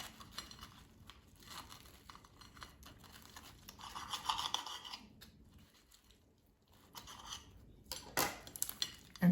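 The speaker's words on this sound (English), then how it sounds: "Let me just cut it" A knife cutting through the crispy toasted bread of an air-fried salami sandwich with melted cheese: quiet crunching and scraping strokes, with a louder crackle near the end.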